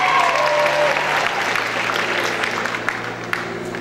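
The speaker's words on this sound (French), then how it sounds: "Et vous pouvez les applaudir bien fort à chaque fois." Audience applause at the Miss Picardie 2015 election speeches: loud, dense clapping from a large crowd, steady and close throughout, easing slightly toward the end.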